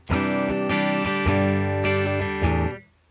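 Clean electric guitar tone played through a Matribox II Pro multi-effects unit, a few ringing strummed chords in steady succession, bright and close, sustaining before fading out at the end.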